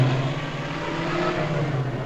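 Car traffic rolls along a busy street in Accra, with a steady close engine drone and a rising rev. The sound holds constant and no voices are heard.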